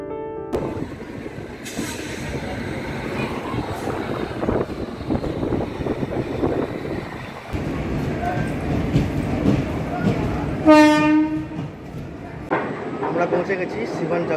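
The Bihar Sampark Kranti Express rolls toward Siwan past the Bagh Express, which is standing at Chhapra. A steady, loud rumble of wheels and carriages carries throughout, with a brief tonal horn-like blare near the end.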